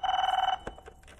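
A telephone bell rings steadily for about half a second, a bright, close trill that cuts off, followed by faint handling noises in a quiet indoor room.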